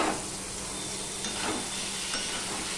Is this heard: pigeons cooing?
no